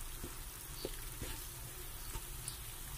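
Brown sugar melts in a hot pan with a faint, steady sizzle, broken by a few soft clicks from stirring, heard alone at low volume.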